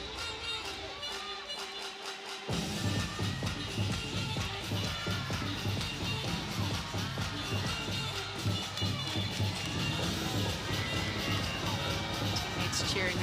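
Gymnastics teammates cheering a gymnast through her floor routine, a sudden burst of shouts and whoops over floor-exercise music, sustained and lively from a short distance away.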